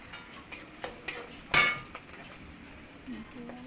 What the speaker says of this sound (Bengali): পেঁয়াজের কুচিগুলোকে একটু ভালো করে ভেজে নিতে হবে।